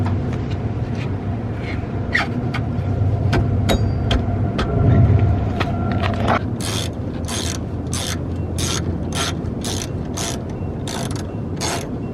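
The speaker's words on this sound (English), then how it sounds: "I just got to jack up the axle a little bit" A Toyota AE86 axle being raised with a jack: a steady low mechanical rumble, then a long run of sharp, evenly spaced metallic ratcheting clicks from the jack handle, close and clear.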